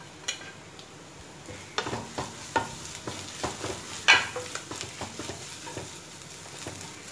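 Chillies and grated coconut fry in a pan for Kerala dry fish chammanthi while a spatula stirs them. A steady sizzle runs throughout, broken by irregular scraping strokes, with one sharper clink near the middle.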